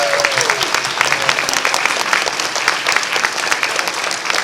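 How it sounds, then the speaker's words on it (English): A convention audience at a furry event's opening ceremony gives the organizers a loud, sustained round of applause, a thick continuous clapping with faint voices underneath. "Can we give them a round of applause right now for good work?"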